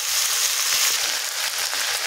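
Pieces of local chicken fry in a pan with manimuni and bhedailota, giving a steady, close hiss of sizzling throughout.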